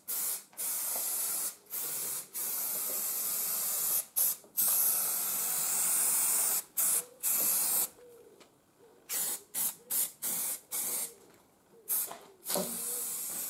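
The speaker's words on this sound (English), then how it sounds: "I'm gonna go with cheap spray adhesive all along there" Bursts of spray adhesive hissing from an aerosol can in repeated passes during car bodywork, some long and steady, others short quick puffs, close and fairly loud with brief pauses between.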